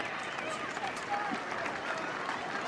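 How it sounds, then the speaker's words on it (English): Spectators at a rugby match in Perth between Perth Spirit and the Melbourne Rebels keep up a steady wash of applause and cheering, an even, crowded roar with no clear breaks. "Getting a lot of friendly encouragement from the crowd."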